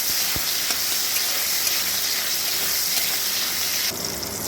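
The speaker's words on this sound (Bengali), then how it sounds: "শুধুমাত্র নুন দিয়েই এটাকে খুব ভালো করে একটু ভেজে নেবো" Chicken pieces, earlier soaked in vinegar and seasoned only with salt, sizzle steadily in hot oil in a pan for chowmein, a continuous loud close frying hiss with small crackles and no talking.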